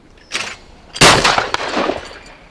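A Webley & Scott 912 multi-choke sporter shotgun fires at a clay target on an outdoor shooting ground. A softer report comes first, then one loud, sharp blast that rings out and decays slowly into the open air.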